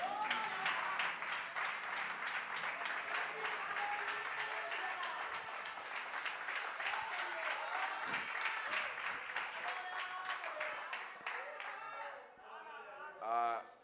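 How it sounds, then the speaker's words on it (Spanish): A church congregation applauds the Lord during a service. The clapping is fairly quiet and sustained, with many hands clapping in a loose, roughly rhythmic pattern. It thins out toward the end, where a voice starts to speak. "Denle un aplauso al Señor"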